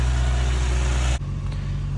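Lexus IS350 engine idling after a cooling system upgrade, a steady close low rumble that changes character partway through as the hum shifts, with no talking.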